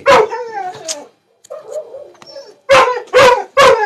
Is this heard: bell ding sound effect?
no